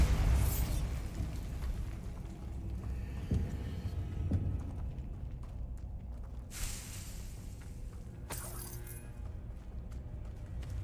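Bombarda explosion spells cast in Hogwarts Legacy on PC, with several sharp booming blasts at intervals, the first near the start and two more later, over a low rumbling game background.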